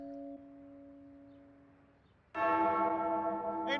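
A person imitates the tolling bell from Metallica's For Whom the Bell Tolls: a faint sustained tone fades out, then a loud, harmonically rich bell-like strike rings and sustains near the microphone.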